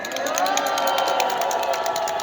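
A crowd at a candlelight protest rally applauds and cheers, with dense rapid clapping and whoops over a murmur of voices, loud and sustained throughout.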